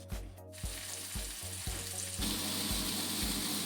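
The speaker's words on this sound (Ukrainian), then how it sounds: "обсмажую на розігрітій сковорідці з обох сторін до готовності" Steady frying sizzle of chicken fillet in a hot oiled pan with a faint background hum, punctuated by regular soft knocks or clicks, growing slightly louder and busier toward the end.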